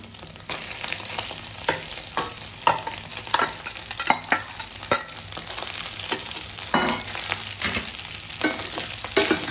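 Pepper egg rice stir-fried in a pan, with steady repeated spatula scrapes and tosses over a continuous sizzle, close and moderately loud for several seconds, no voices.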